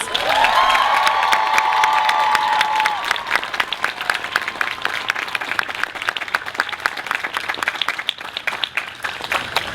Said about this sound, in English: Please join me in honoring our Provost, Sandra Greer, with a round of applause.